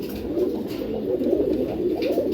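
A male Giribaz pigeon coos steadily in a low, continuous rolling call, close by and alone.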